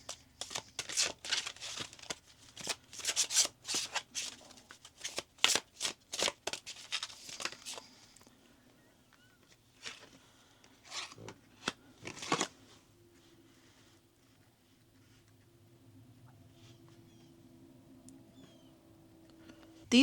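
Oracle cards shuffled and pulled at close range: a run of crisp riffling flicks and slaps, then scattered card snaps and soft handling over a faint low hum, ending near quiet.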